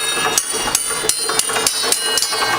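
Metal bars of different lengths in a kids' park exhibit are struck one after another at a steady rhythm, each tap ringing out a bright, sustained metallic tone, close and clear with no talking.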